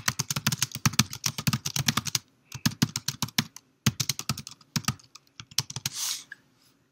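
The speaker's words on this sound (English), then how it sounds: "And so now I can type." Steady bursts of fast typing on a computer keyboard, close and clear, with rapid key clicks broken by short pauses and a brief soft rustle near the end; no talking.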